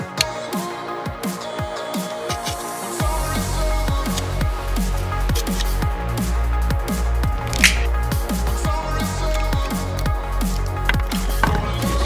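A blade cuts into the bottom of a Pringles can, making a close series of rapid crunching, tapping and squishing strokes that repeat irregularly under a low steady background hum.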